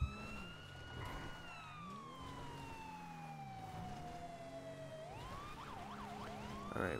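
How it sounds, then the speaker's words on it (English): A police car siren wails in the video game GTA V, a loud sweeping tone rising and falling alongside engine drone, shifting into a faster yelp pattern near the end. "Kill the siren? I'd say kill the siren."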